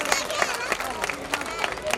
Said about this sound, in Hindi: एक बार इनके लिए और जोरदार ताली हो जाए।